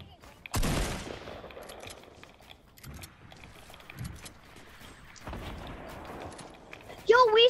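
Video game gunfire sounds as several sharp, loud bursts of shots scattered across the moment, separated by quieter stretches with faint mechanical noise and people talking.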